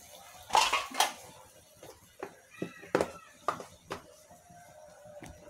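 Metal lid set onto a cooking pot of chicken curry, with a couple of loud clanks near the start, then scattered lighter metallic knocks and rattles over a few seconds, close by.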